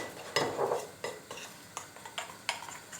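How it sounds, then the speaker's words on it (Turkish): A spoon stirs a mixture of yogurt and flour in a bowl for fresh fava bean soup, with rhythmic clinks and scrapes every half second or so, close and clear. "güzelce karıştırıyorum"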